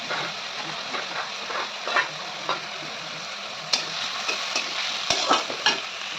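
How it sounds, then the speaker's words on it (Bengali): Chopped onion, tomato and green chilli with cumin fry in a pan over low heat, giving a steady close sizzle punctuated by the sharp scrape and clack of a stirring spatula. "পেঁয়াজ প্রায় ভাজা হয়ে এসছে"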